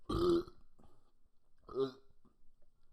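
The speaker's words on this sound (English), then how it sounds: "I gotta burp real quick." A man lets out a loud, close burp, followed by a second shorter one a moment later, with quiet room tone between them.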